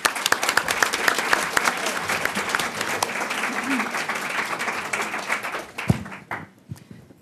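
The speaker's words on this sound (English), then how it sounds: "let's give them all a round of applause." Audience applause for panelists at a congressional briefing, a dense, steady round of clapping that carries for several seconds before dying away into a few last claps and room noise.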